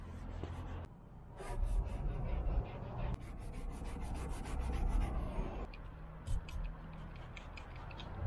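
A hand rubs across rough, weathered paint on a 1988 Volvo 240, giving a close, steady dry scraping that drags in uneven stretches and pauses briefly, with faint small ticks mixed in.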